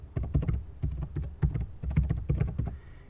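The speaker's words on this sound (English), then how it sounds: "You simply need to type install packages," Fingers type a command on a computer keyboard, a close run of quick uneven key clicks in short bursts with brief pauses between them.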